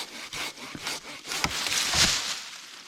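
A hand saw cuts through damp, unseasoned wood in a forest, a few rasping back-and-forth strokes at close range with no talking.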